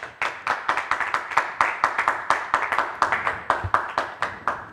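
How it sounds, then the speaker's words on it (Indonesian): Studio audience claps for Dr. Nasir Tamara on a talk show, a steady run of sharp, close handclaps from a small crowd, fairly loud and without speech. "Tepuk tangan untuk Pak Nasir Tamara"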